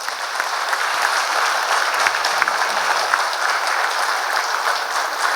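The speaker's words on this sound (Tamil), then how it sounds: "அவருக்காக கைதட்டுங்களே ஒரு தடவை." Sustained, even applause comes from an audience at a college chief guest lecture, many hands clapping steadily for several seconds without a break.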